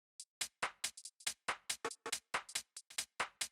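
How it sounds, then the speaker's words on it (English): UK garage percussion tops loop for a future garage track: a busy, shuffling run of crisp, bright hits in quick syncopated rhythm, steady and upfront with no voice. "Pretty standard UK garage percussion tops loop."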